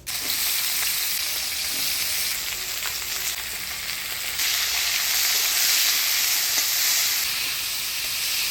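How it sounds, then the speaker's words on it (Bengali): Continuous bright sizzle of bitter gourd frying in hot oil with turmeric and salt, a steady hiss that swells slightly partway through, with a few faint stirring knocks. "করলাটা আমি হলুদ লবণ দিয়ে ভালো করে ভাজে নিলাম"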